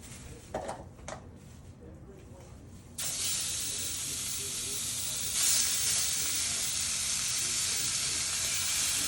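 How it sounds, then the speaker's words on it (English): Steady loud sizzling of chicken frying in a hot pan, a constant hiss that swells partway through, with faint clatter just before it starts. "Nice and hot, so they start sizzling."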